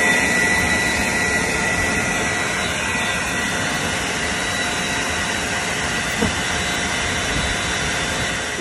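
A cheap $99 blower runs continuously during bee removal, a steady loud whooshing roar with a high whine, constant from start to finish with no talk.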